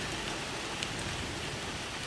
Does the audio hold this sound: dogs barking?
no